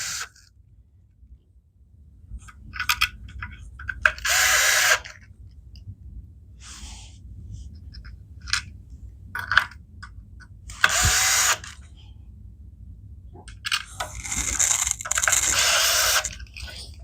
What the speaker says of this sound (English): You're going to use your driver to drive those screws that you've just removed back in